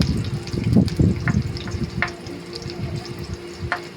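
Onions sizzle in a frying pan while a Filipino mung bean stew is being cooked, a steady close hiss with some stirring clatter, strongest early on and then settling to a continuous fry.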